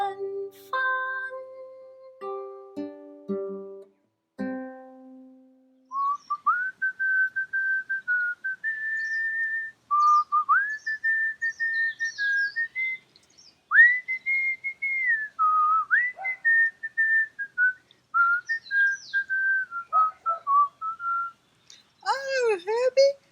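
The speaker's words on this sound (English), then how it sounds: "I'm so glad to hear you whistling again today" A person whistles a cheerful melody alone, holding clear sustained notes with short slides and pauses between phrases. A few plucked musical tones come first, and a brief burst of other sound closes it.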